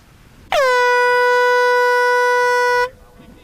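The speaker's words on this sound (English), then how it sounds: "When the final horn sounds" A single loud air horn blast at an ice fishing competition in Michigan, sounding the end of the contest: one steady, harmonically rich tone held for just over two seconds, close and alone, with quiet surroundings before and after.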